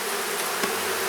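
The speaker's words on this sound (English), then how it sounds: "They just roar. Usually a roaring hive is not a good thing." A honeybee hive roars loudly and steadily during an inspection, a dense close buzzing hum with no voices.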